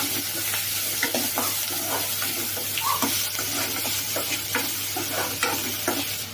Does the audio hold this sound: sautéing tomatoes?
yes